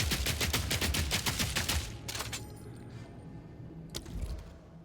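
Rapid machine gun fire in Path of Exile 2 hammers out in a fast, loud burst for about two seconds, followed by a quieter stutter of shots and a final single blast.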